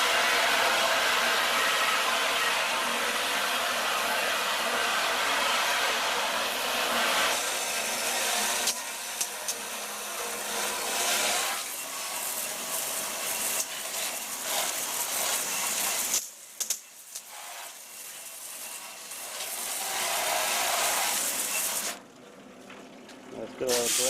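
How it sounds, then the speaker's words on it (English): A garden hose sprays on high, rinsing BBQ grates after a cleaner test with 409, Easy Off and Noble cleaner; a steady broad hiss of water runs almost throughout, close and fairly loud, briefly dropping out near the end. "So here's this hose, it's kind of on high."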